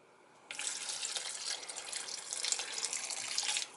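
Tap water runs into a cup for cooking picadillo, a steady rushing splash that starts abruptly, holds for about three seconds at close range and then cuts off, with no talking.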